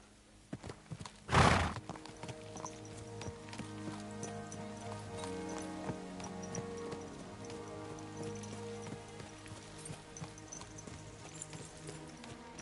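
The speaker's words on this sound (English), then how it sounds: "I guess I could take a little ride around on the horse and have a look" Horse hooves clip-clop steadily while riding in the medieval game Kingdom Come: Deliverance 2, after a brief loud burst near the start, with a whinny and light rain under the rhythmic footfalls.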